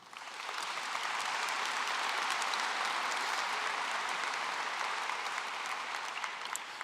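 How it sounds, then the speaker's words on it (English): Broad, steady applause fills a large hall at a high school graduation commencement, rising quickly and holding as a dense wash of many hands clapping from a sizable crowd, somewhat distant and even. "Give yourselves a well-deserved round of applause."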